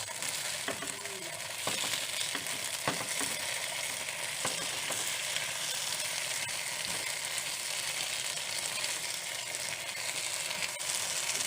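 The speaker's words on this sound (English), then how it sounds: "So just stir it so the slices of talong will get smaller, more thinner." Eggplant slices sizzle steadily while being stirred in a pan, with spoon scrapes and clinks dotted through a continuous, fairly loud fry.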